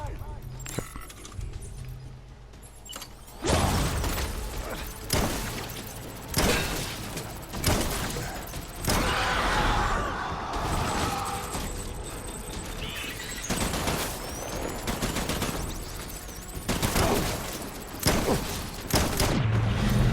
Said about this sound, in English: O, jis gali šaudyti.